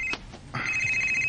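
A cellphone rings with a bright electronic tone, starting with short bursts and then settling into a sustained ring, close and loud with no speech over it.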